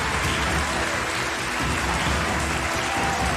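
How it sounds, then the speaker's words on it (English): Audience at a live debate-style fan battle applauding, a dense continuous clapping that stays loud and even for the whole stretch, no voices over it. "Applause in order, and just before the clock ticks."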